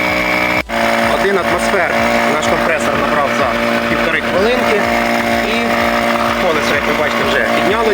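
ARMER portable car air compressor with LED light and electronic auto-stop running continuously to inflate a completely flat tyre, a loud steady buzzing drone with a sharp click near the start, close up throughout.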